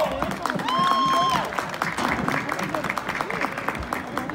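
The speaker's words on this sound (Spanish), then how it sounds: "venga, fuerte el aplauso." Crowd applause at a rodeo tournament, clapping spread through the stands in a steady patter with a brief whistle tone near the start, mixed with background noise and voices.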